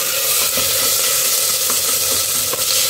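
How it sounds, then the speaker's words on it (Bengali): Sliced onion fries with ginger garlic paste in a hot pan, giving a loud, continuous sizzle close by with faint stirring scrapes and no talk. "পেঁয়াজটা ভাজতে ভাজতে দিয়ে দিচ্ছি জিঞ্জার গার্লিক পেস্ট"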